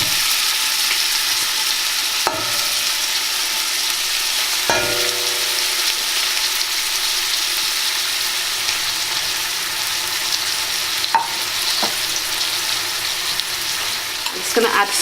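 Onions frying in oil in a pan, a loud, dense, continuous sizzle heard close up, with a few sharp clacks of a utensil against the pan and no talking.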